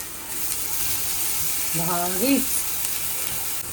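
Capsicum sizzling as it fries in a pan, a steady close hiss that runs the whole time, with a short voice sounding briefly partway through.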